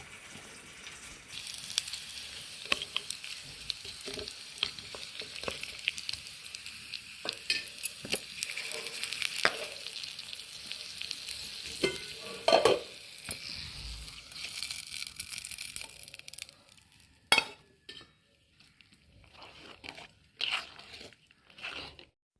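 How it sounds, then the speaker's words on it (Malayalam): Coconut oil sizzles in a pan with curry leaves, dried red chillies and shallots for tempering a coconut fish curry, a continuous bright crackle with stirring scrapes that dies away into scattered clinks near the end. "ഒന്ന് വറവിട്ടെടുക്കാം"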